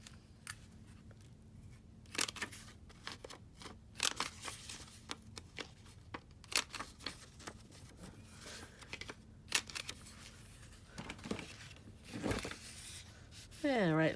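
Scissors snip and trim paper, rounding the edges of a handmade envelope journal: a string of quick, crisp cuts with rustling paper between them, fairly close, and a voice talking now and then.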